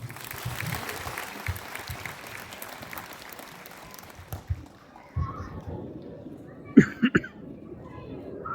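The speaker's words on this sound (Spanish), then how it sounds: "cálidos aplausos." Audience applause welcoming a teacher at a conference on unionism in Mexico and Latin America, a broad wash of clapping that fades after about four seconds, leaving quieter room noise with a few scattered claps and thumps.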